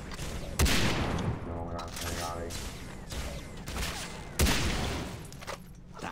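Gunfire in the video game Far Cry 3 Blood Dragon as a headshot lands: two sharp, loud shot cracks with a dense rumbling game soundscape and mechanical sounds between them, and a voice speaking faintly underneath.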